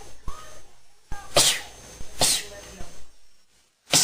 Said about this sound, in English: Sneezing is fun.